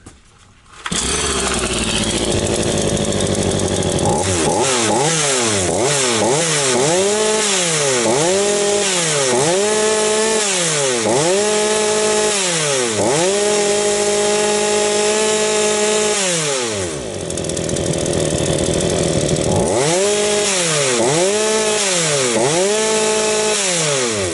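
Hyundai X 380 petrol chainsaw, just assembled, starts and runs loud and close, its engine repeatedly revving up and dropping back to idle in rising and falling waves, with a brief lull midway.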